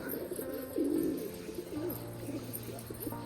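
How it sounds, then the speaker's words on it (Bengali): Pigeons kept in a village loft coo in soft, repeated low calls, close by and steady throughout, with no voices over them. "আর পায়রাগুলো এখন তাড়াতাড়ি করে খাওয়াবো খাইয়ে দিয়ে তাড়াতাড়ি করে আবার খাঁচায় আটকে দেবো"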